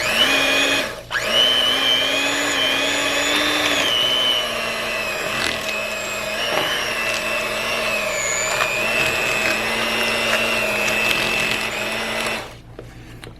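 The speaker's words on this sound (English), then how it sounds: "we're gonna blend this up" A blender whirs steadily while mixing cream cheese and sugar for a cinnamon roll cheesecake, a loud continuous motor drone with a brief dip near the start, running for about twelve seconds before cutting off.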